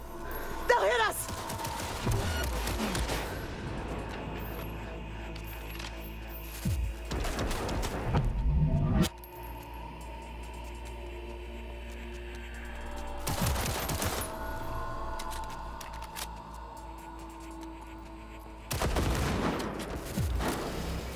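Automated security turrets fire in Cyberpunk 2077 in several loud bursts of rapid gunfire spread across the stretch, separated by quieter gaps, with in-game voices talking between volleys.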